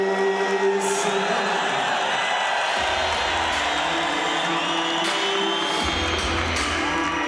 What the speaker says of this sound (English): What a rapturous round of applause to greet the introduction of Bakhodur USMONOV.